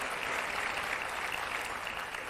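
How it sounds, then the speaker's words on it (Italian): Audience applause at an Italian show, a dense steady wash of clapping that holds evenly loud throughout without any talk over it. "si gode di nuovo il vostro applauso"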